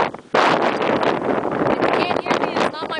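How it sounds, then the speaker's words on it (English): Strong gusty summer wind in New Brunswick buffets the microphone in a loud, rough roar that rises and falls, nearly continuous throughout. "it's getting pretty windy out here"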